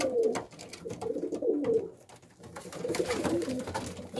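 Racing pigeons coo softly inside a pigeon loft, repeated low rounded calls rising and falling in bursts, close and moderately quiet, with faint rustling between calls.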